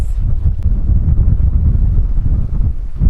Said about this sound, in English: Doing a little jib sailing.